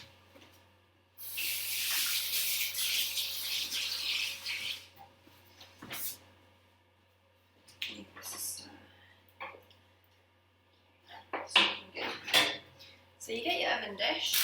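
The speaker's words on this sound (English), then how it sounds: "I'm just gonna wash my hands for a second." A tap runs steadily into a kitchen sink for a few seconds while hands are washed during spaghetti-and-meatball prep. Then come quiet clinks and rustles and brief voices.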